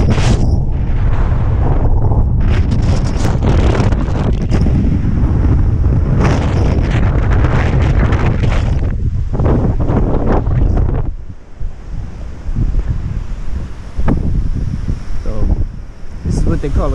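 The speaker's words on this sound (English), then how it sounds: "You see how the wind has picked up dramatically?" Strong wind from an approaching cold front buffets the microphone at a fishing spot, a loud continuous roar that dominates the first eleven seconds, then eases slightly but keeps gusting to the end.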